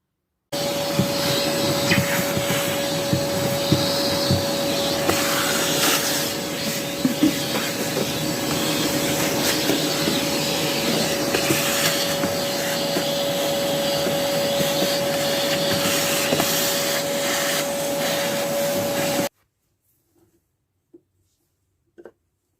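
A power drill runs continuously for about twenty seconds, enlarging a hole in the wall of a camper van. It makes a loud, steady, close whine with faint grinding variations, then cuts off into near silence with a couple of small knocks.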